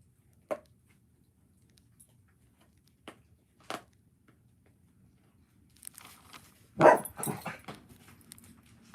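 A large dog of about 60 pounds gives a few sharp, isolated barks spaced seconds apart in a quiet room, then a louder burst of barking and scuffling near the end.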